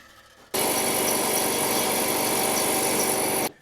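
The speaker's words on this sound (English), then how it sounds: "I'm going to take the rest of the height off on the belt sander." Belt sander taking height off a part for a 1959 Fender Duo-Sonic guitar, a loud, steady close-up whine that starts abruptly and runs about three seconds before cutting off.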